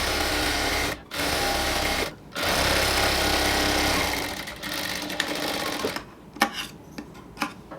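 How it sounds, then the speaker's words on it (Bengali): An electric sewing machine stitches a half-inch hem on a salwar waistband, a close, fast mechanical whir running in long bursts with brief pauses, then a few short stop-start runs and clicks at the end. "ভিতরের দিকে 1/2 ইঞ্চি নিয়ে একটা সেলাই করে নেব"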